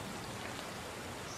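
Rain sound effect, a steady, uniform hiss of falling rain with no distinct drops, fairly quiet and continuous with no talk.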